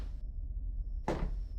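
A door opens in the horror game Scrutinized, a single abrupt scraping thud near the end that cuts through a quiet, hushed ambience with a faint thin tone.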